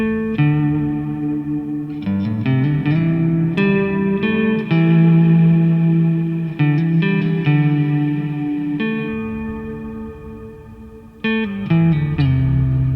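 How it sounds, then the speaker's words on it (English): Sustained synth and guitar-like tones run through a free reverb VST plugin, drenched in lush reverb and chorus, notes blooming and trailing into a long, washy decay, loud and continuous. "It's a great sounding reverb plugin that's worth checking out."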